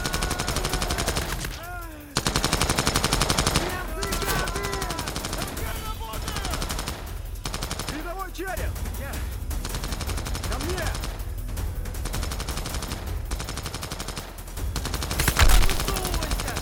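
Machine gun fire in a sniper war action film: repeated rapid bursts and scattered gunshots rattle across the battle scene, with shouting voices and noise mixed in between the volleys.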